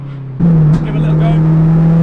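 Turbocharged Honda Civic Type R EP3 making about 420 bhp accelerates hard from a steady idle into a loud, sustained engine roar, close up, with a voice briefly over it.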